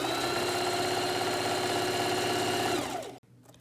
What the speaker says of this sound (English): I will begin to sew this way.